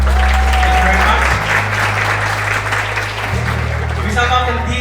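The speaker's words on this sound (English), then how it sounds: "Once more, big round of applause, ladies and gentlemen, for Mr. Gulfan Alfer." Loud, sustained applause from an audience at a university event, steady clapping throughout with a low hum underneath.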